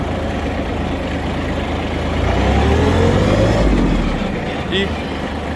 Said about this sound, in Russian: Работает двигатель, конечно же, максимально ровно.